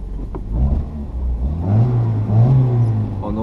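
Clutch noise from a Renault Super 5 1.1 fitted with a Turbo GT28, a mid-pitched engine rising and falling with a grinding whir as the clutch engages, heard up close and fairly loud.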